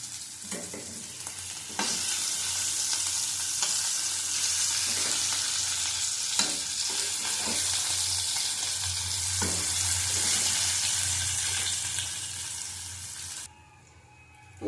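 Parboiled potatoes fry until reddish in a pan of hot oil, giving a steady, close, loud sizzle with occasional stirring scrapes. The sizzle cuts off just before the end.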